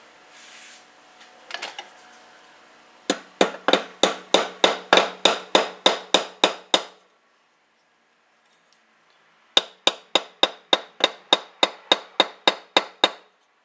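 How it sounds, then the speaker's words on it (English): A small brass fitting is hammered into a 3hp Briggs engine during an electronic ignition install: two runs of sharp, evenly spaced metallic taps, about a dozen each, close and loud, separated by a short quiet gap, with no talk. "we have a little, I think, brass fitting that'll get hammered in here"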